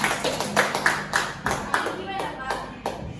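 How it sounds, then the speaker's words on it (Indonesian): Attendees at an office meeting clap together for a marketing team, giving a small group's distinct, uneven claps at moderate volume, close by. "Kasihkan tepuk tangan terlebih dahulu"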